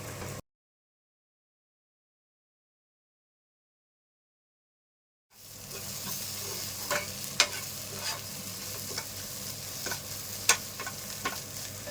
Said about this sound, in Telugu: ఒక ఐదు నిమిషాలు ఇలా వేయించుకోవాలి